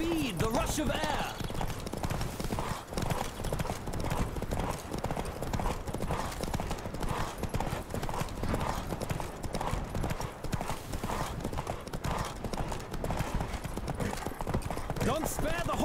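Horse hooves galloping in a fast, steady clip-clop rhythm in The Witcher 3 game, loud and continuous beneath spoken dialogue and game sounds.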